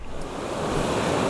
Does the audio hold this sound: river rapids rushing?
yes